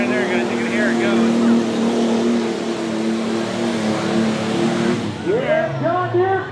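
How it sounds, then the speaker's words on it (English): Tractor pull engines at a fair roar in a loud, sustained drone that rises and falls as a machine pulls, with an announcer's amplified voice and nearby talk over it. "There's a tractor pull right there, guys. You can hear it going."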